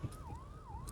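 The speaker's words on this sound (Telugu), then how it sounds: "అంబులెన్స్ వచ్చేసింది డైరెక్ట్." An ambulance siren on the Outer Ring Road near an accident scene wails in slow rising and falling sweeps, moderately faint and heard from a vehicle on the road.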